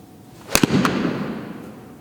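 A golf club strikes the ball on a low, punchy shot outdoors: one sharp crisp impact, a quick follow-on click, then a faint trailing whoosh fading away.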